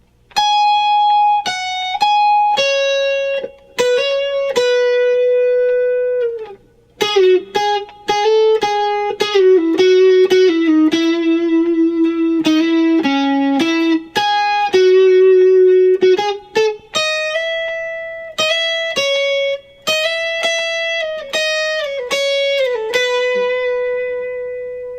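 Electric guitar plays a guitar solo from a song, a run of clean, sustained single-note lines with bends and quick phrases, loud and alone with no talking.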